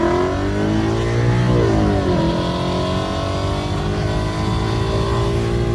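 A 2017 Ford Mustang GT and a Ford Raptor race on the street, engines roaring loudly and revving, pitch sweeping up and down as they accelerate close by.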